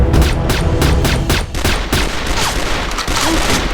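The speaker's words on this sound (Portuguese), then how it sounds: "Eu dei 2 ou 3 tiros de PT nele." Rapid gunfire from a Counter-Strike style video game shooter, with dense bursts of shots, loud and close, and no talking.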